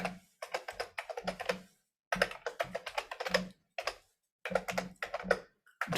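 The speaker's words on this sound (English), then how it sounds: "I'm typing in the link here for your reference for that holiday special." Bursts of fast typing on a computer keyboard, clattering key taps in quick runs separated by short pauses, close and clear with no talking.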